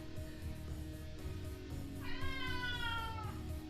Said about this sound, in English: Cat says bye.